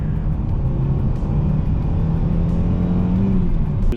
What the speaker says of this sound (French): Le son du 5 cylindres dès qu'on accélère sous cette voiture